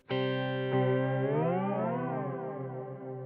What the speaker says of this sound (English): This is the Rubberneck. It does something a little bit different